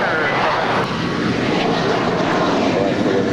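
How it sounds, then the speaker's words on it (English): An eight-year-old American Airlines Airbus A321 departs Los Angeles International with a loud, continuous engine roar, dense and unbroken throughout. "That was American 475 departing to Chicago. It's an 8-year-old Airbus A321."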